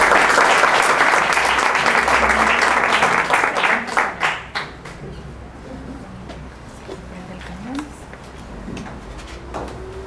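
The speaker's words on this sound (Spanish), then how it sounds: "recibamos con un aplauso, por favor, a la doctora Cristina." An audience at a talk on Mexico's natural heritage claps in loud, dense applause to welcome a speaker, fading out after about four seconds into quiet room noise with a few scattered knocks.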